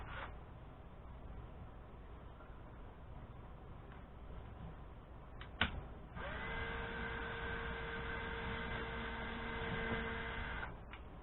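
A drill whines steadily as it bores a pilot hole in boat trim, a sustained high motor tone starting midway after a sharp click, with a quiet hum underneath.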